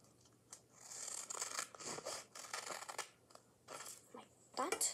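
Scissors slice through a strip of taped paper, giving a series of quiet crunchy snips and rasps in uneven bursts, close to the microphone.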